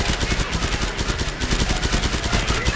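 Rapid gunfire in the video game Killing Floor 2, a loud, dense burst of repeated shots running steadily through the whole clip with no pauses.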